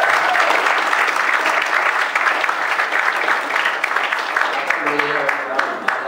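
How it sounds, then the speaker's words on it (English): An audience claps and applauds continuously and loudly for Father's Day, a dense, steady wash of clapping across the whole stretch with a faint voice near the end. "I just wanted to give a round of applause for all of our dads out there."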